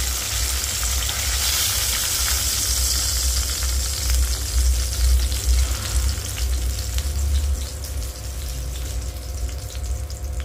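Fish sizzles and spatters steadily in hot oil in a home kitchen, a loud continuous fry with crackling bursts running the whole time and no voices over it.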